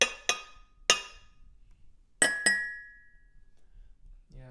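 An ordinary drinking glass at a tea tasting is struck several times, giving bright clinks in two quick pairs with a lone tap between, the last ringing out briefly before a voice starts.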